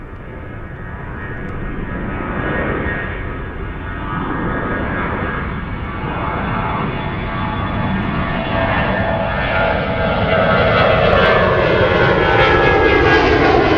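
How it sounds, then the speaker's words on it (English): A Boeing 777 airliner lines up at Zurich, its engines a loud, steady roar that slowly rises in pitch with a whining tone building toward the end, close by and alone without voices. "A big 777 lining up."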